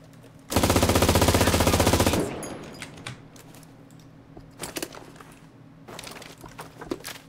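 A bipod-mounted machine gun in the Cuisine Royale shooter fires one loud, rapid sustained burst lasting under two seconds, followed by quieter scattered clicks and distant shots.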